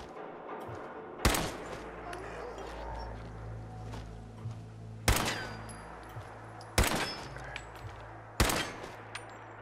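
Gunfire in Fallout 4 at Molerat Hill: four sharp, loud single shots spaced a few seconds apart over a low continuous background rumble.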